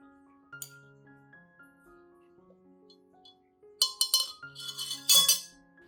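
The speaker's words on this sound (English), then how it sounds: "Add 1 tablespoon of cinnamon powder to the glass." A spoon tips a tablespoon of cinnamon powder into a clean glass, giving a cluster of bright clinks and light rattles against the glass near the end, set over soft background music.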